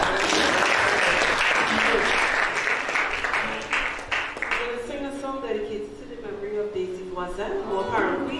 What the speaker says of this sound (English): So you can give her a big applause.